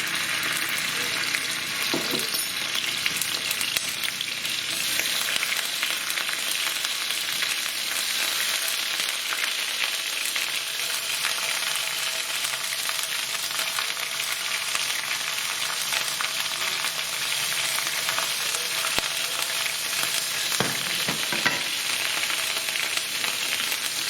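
Garlic and ginger paste fries in a pan for chicken korma, giving a dense, continuous sizzle with scraping stirring strokes scattered throughout, steady and close, with no voice.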